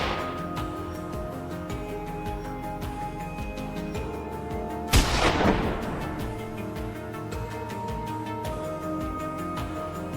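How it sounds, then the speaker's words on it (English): A single sharp gunshot aimed at a wild boar raiding a tomato farm on a dry, grassy hillside, cracking out loud once midway and decaying quickly over steady background music and ambience. "a gunshot rang out"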